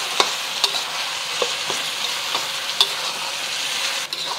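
Ground beef stir frying in a pan with onions just added, a steady sizzle broken by several sharp scrapes and clinks of a utensil stirring, close up with no talking.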